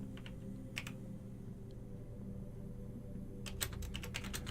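A computer keyboard being typed on, a couple of isolated key taps early on followed by a quick burst of rapid keystrokes near the end, close and fairly quiet over a steady low hum.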